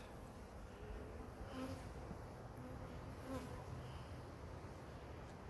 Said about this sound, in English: them are drones, them are boy bees